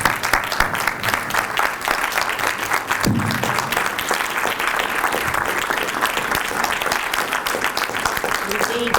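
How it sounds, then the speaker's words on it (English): A crowd applauding panelists at a civil rights symposium, dense continuous clapping from many hands filling the room, loud and steady throughout with a brief low voice or tone partway through. "We need to give more applause to our panel."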